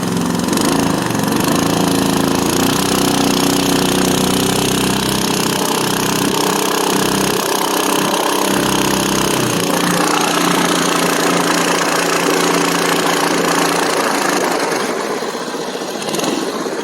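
A Mud-skipper longtail kit boat motor runs steadily at a trolling idle while cruising through shallow mud, a loud, continuous engine drone with a rough knocking texture that stays close and unbroken throughout, with no voices over it.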